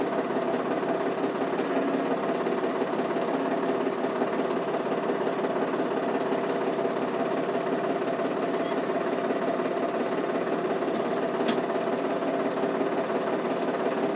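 A steady tractor engine drones continuously at an even idle with no throttle, close and constant, with a faint rattling vibration throughout, hauling two trailers of wheat.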